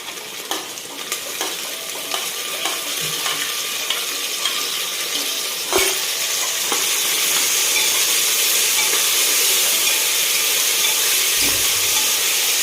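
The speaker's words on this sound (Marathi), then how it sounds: "पण त्याला परतून घ्यायला आपण टोमॅटो टाकून घेते" Chopped tomatoes sauté in oil in a pan while khichdi is being made, giving a steady close sizzle and hiss with a few light stirring scrapes and clinks, louder in the second half, with no talking.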